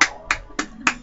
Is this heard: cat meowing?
no